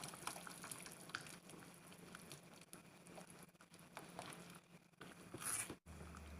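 A thickened filling bubbling in a pot while its flour cooks, with faint steady boiling and soft popping bubbles, plus light stirring scrapes.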